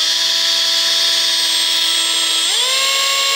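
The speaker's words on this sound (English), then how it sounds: "I want to drill a small hole just right below the rim" Power drill boring a small hole just below the rim of a Stanley cook pot, a loud steady high whine that drops abruptly in pitch partway through as the bit breaks through the metal, with no talk.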